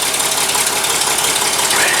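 A 1936 Chevy pickup truck engine running, a steady loud mechanical drone with a dense rumbling texture, close and continuous for the whole moment.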